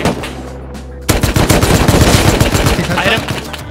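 Rapid automatic AK rifle fire in the Rust video game bursts in loudly after a second of quieter ambience, a dense stream of shots continuing to the end.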